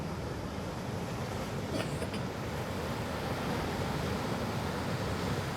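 Surf rolls onto the seashore at high tide beside a coastal temple, a continuous dense wash of waves mixed with wind noise, fairly close and even in level, with no talking.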